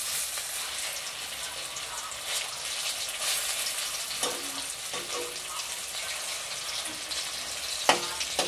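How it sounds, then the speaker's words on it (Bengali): Drumstick (sajane) leaf pakoras fry gently in oil over low heat, making a steady hissing sizzle with occasional soft clinks and scrapes as the pieces are turned one by one. "এখন অল্প জাল দিয়েই ভাজতে হবে।"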